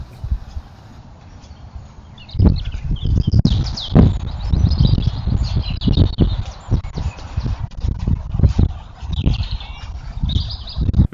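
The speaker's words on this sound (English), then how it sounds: "it's so nice to hear the bird song" Birds singing outdoors in a wooded spot, bright chirps and trills scattered through the scene, partly masked by heavy wind buffeting and rustling bursts on the microphone.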